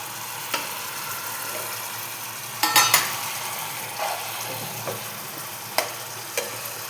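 Eggs added to a spiced ginger-garlic paste in a pan, with a steady low frying sizzle and a few scattered clinks and scrapes of a spatula or utensil, no voices.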